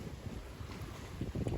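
Gusty wind at Gray Lake, Arkansas buffets the microphone with a low, rumbling roar that swells and churns throughout, no voices present.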